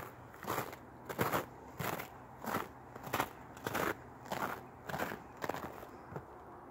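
Footsteps crunch through snow on a cemetery walk early in the morning, about ten steady, evenly spaced crunching steps at close range with no talking.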